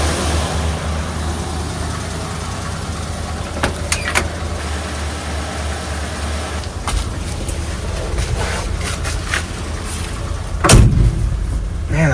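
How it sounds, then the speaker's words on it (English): The door of an old abandoned Ford F100 truck is opened and shut, giving a few sharp metallic clunks and rattles over a steady background rumble, with a louder solid slam near the end and no speech. "that door closes nicely"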